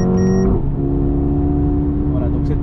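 A Mercedes A45 or A35 AMG accelerating in Sport Plus mode, a loud, close engine tone rising in pitch before settling into a steady, strong drone as the car pulls.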